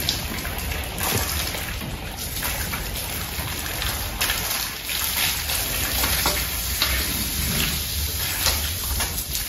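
A pipe pinched at its tip sprays water onto a cow's hooves during bathing on a farm, a steady close rushing hiss with faint spattering throughout.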